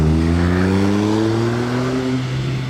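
A car fitted with a Novitec exhaust revs close by, giving a steady, loud engine drone whose pitch rises slightly as it builds.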